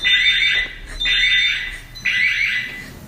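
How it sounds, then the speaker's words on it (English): A kitchen safe touch system alarm sounds three repeating electronic beeping bursts, each close to a second long with short gaps between them, loud and with no talking. "It's that alarm. That's the safe touch system."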